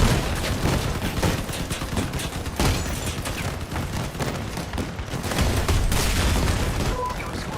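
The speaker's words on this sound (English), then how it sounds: "the rate of fire the turrets in this place is insane. They're just constantly shooting." Video game turrets fire nonstop in dense, rapid volleys, a loud continuous clatter of gunfire with booming impacts layered throughout and no pause.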